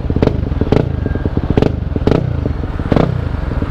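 A Yamaha WR 250 supermoto engine idles close and loud with a fast, even thumping, blipped up about five times in regular revs, with no talking.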